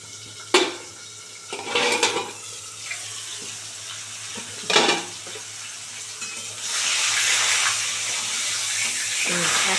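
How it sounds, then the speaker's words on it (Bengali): A katla fish head fries in oil in a covered wok. Several sharp metal clanks of the lid and utensils come first, then a loud, steady sizzle builds and continues to the end. "এবার এই পিঠটাও ভালো করে কড়া করে ভেজে নেব সুন্দর করে।"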